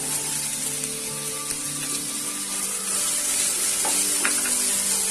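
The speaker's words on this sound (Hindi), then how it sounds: "हल्का सा आप इसे थोड़ा देर भून लीजिए लहसुन अदरक का।" Garlic and ginger fry in a pan, a steady close sizzle that holds evenly throughout with no talking.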